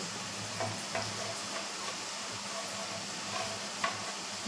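Chakri made from rice flour fry in hot oil with a steady low bubbling sizzle and a few faint clicks, close and even throughout, with no voices.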